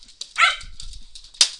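A dog in the room lets out a few sharp, high yipping barks, close and loud, with short quiet gaps between them.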